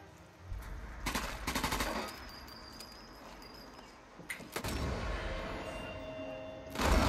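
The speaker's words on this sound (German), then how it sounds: "Schuss gehört" Gunfire in the video game Sniper Elite 4, a couple of sharp bursts separated by quieter game ambience, fairly loud and close with no talking over it.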